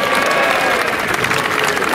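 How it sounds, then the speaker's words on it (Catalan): A crowd at an outdoor gathering of elderly supporters in a Catalan town square applauding, a dense, steady wash of clapping filling the whole stretch, loud and close with a faint murmur of voices. "bon aplaudiment"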